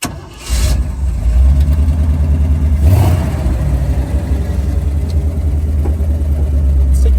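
A V8-swapped Jeep engine fires up and pulls away for a drive. A loud, deep mid-range rumble swells after a short pause and holds steady and close, with a brief rise in revs near the middle and no voices.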